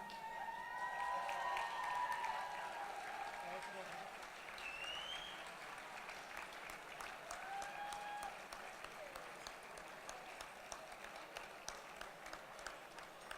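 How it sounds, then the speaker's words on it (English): Applause from a ballroom audience for the Young Irish Dancers of Kuala Lumpur at a 2015 ball, a steady broad wash of clapping over the whole stretch, with voices and whistles faintly mixed in and thinning slightly toward the end. "Can we give them another big round of applause?"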